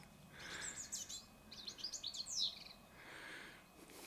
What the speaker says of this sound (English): Can hear the bird life just up above us.